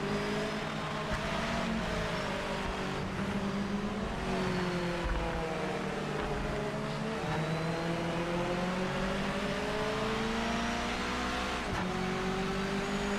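A Miata race car engine in the Project Motor Racing video game drones steadily throughout, its pitch rising and falling through gear changes and throttle lifts, loud and continuous with a faint tire hiss underneath and no talking.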